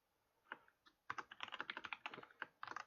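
Close, quiet clicking on a computer keyboard, a scattered run of keystrokes that starts sparse and then turns into a quick burst of typing with no voice.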